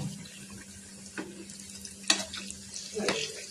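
Wheat-flour sweet roasting in a pan while being turned, a soft low sizzle with a few scattered scrapes and taps of a utensil, fairly quiet and close.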